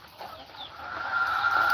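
Chickens on a farm raising chicks and older birds give a drawn-out, rising clucking call that grows louder over a steady outdoor background, with no talking.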